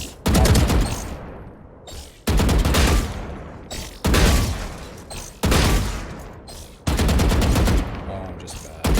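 The AK rifle in the shooter game Valorant fires four rapid, loud bursts of automatic gunfire, each roughly two seconds long with brief gaps between them.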